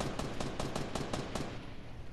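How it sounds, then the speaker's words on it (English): Rapid bursts of gunfire in the video game Fortnite, about eight sharp shots in a quick steady rhythm, fairly close and loud, then trailing into a noisy hiss. "you hear gunfire"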